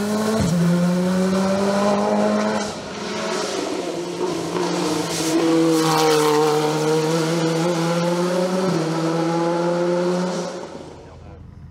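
A Simca CG Turbo rally car races up the Chamrousse course, its loud, sustained engine note rising and falling through gear changes, with a voice talking over it.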